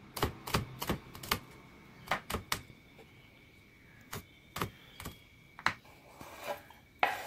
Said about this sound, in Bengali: আরেকদিকে আমি কেটে নিচ্ছি কিছু কাঁচা লঙ্কা